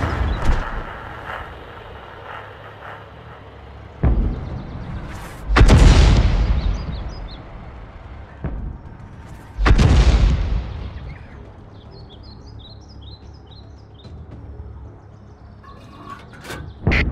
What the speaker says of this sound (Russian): Орудие готово к стрельбе.